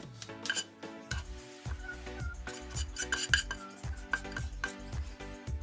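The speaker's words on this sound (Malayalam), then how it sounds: "ഇനി ഇതെല്ലാം കൂടി നന്നായിട്ടൊന്ന് മിക്സ് ചെയ്യാം." Puttu flour is being mixed with grated carrot and salt in a bowl, giving a steady run of clinking and scraping knocks at an even rhythm, close and clear with no talking.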